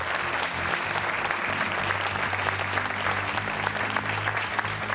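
Studio audience of a TV quiz show applauding steadily, a dense, even round of clapping throughout with a faint low hum beneath.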